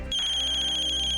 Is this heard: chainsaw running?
no